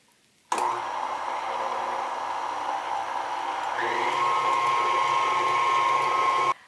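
An electric mixer working sweet yeast dumpling dough with milk, a steady motor whir that starts abruptly, shifts to a higher pitch partway through, then cuts off, close and without talk.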